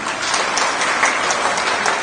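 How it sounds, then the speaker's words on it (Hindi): An audience in the Karpoori auditorium, a hall in Patna, claps steadily, a dense, even burst of applause that carries on without a break. "कर्पूरी सभागार में आप जितने लोग आए हैं अपने लिए ताली बजाइए।"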